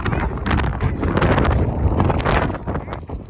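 Strong wind gusts outdoors in snow, roaring and buffeting the microphone close up in a loud, continuous rush with no clear talking.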